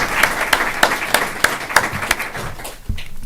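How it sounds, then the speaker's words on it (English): A board of education meeting audience claps together for several seconds, a fairly close spatter of hand claps with some sharper individual slaps standing out before the applause fades. "please join me in giving our Board of Education a round of applause"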